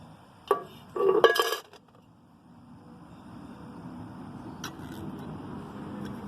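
Pieces dropped into a metal paint can while making charcoal: a sharp knock, then a cluster of tinny clinks and rattles, followed by quiet background hum and one faint later clink.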